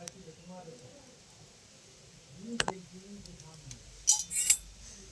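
A metal bowl is handled and set down in a home kitchen while homemade alta is being prepared, giving a few light clinks and a sharper knock near the end, close and fairly quiet.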